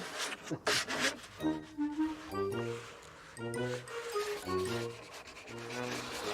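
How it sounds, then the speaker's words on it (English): Sandpaper rubs back and forth across a wooden coffin in steady rhythmic strokes, close and moderately loud, with no talking. "Maybe you can help me sanding the coffin."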